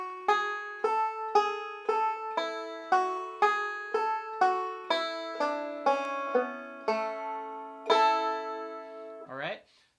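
A banjo plays a melodic run from the tune Bill Cheatum, with a regular stream of bright plucked notes, each sharply attacked and quickly decaying, ending on a longer ringing note and a brief slide.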